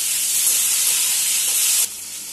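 Chopped onion and dried tomato sizzle steadily in a hot pan for a Bengali masoor dal, a loud continuous frying hiss that drops noticeably quieter near the end.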